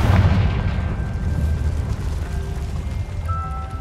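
Confringo fire spell explosion in the Hogwarts Legacy video game: a booming blast that hits hard at the start, then fades into a long rumbling tail with faint tonal game sounds.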